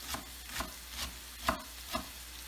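Scallions fry in a pan for fried rice, with a soft steady sizzle broken by four or five sharp stir or scrape hits at roughly half-second spacing. No one speaks.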